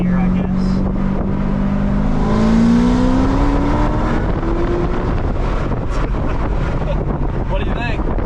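A C6 ZR1 Corvette with a modified exhaust accelerates through second gear, engine pitch climbing then settling, heard loud from inside the car with wind noise and occasional voices underneath.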